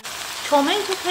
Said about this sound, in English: after I fry the tomato paste